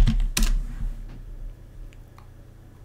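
A few sharp keystrokes on a computer keyboard, close and distinct at first, then fading into quiet room tone.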